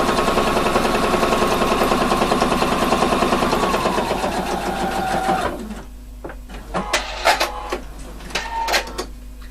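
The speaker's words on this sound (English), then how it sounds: "Now it's just time to do the top stitching here to make it look finished and done." A sewing machine runs loud and steady for about five seconds while top stitching a hidden closure, then stops, leaving a quiet hum and a few sharp clicks and handling knocks.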